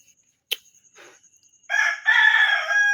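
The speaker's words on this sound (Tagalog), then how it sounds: "Ang ingay mo talaga, manok." A native rooster crows close by, loud and alone: a sharp click and faint sounds first, then a long two-part cock-a-doodle-doo.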